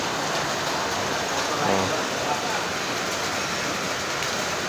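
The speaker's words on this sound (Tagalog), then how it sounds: "kusog kayong uwan mga pilingero" Heavy rain pours down in a steady, dense hiss that stays even and loud throughout, with a faint voice briefly rising under the downpour.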